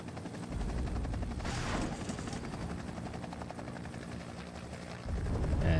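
Helicopter in the WARNO war game, a twin main rotor machine armed with anti-tank guided missiles, thrums loudly and steadily with a burst of firing noise early on and rising again near the end; no talk.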